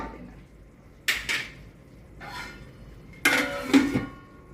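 A cooking pot and its lid clatter in a kitchen while mutton for achar gosht is covered to simmer. Several short metallic clanks and knocks come close together, with quiet pauses between them.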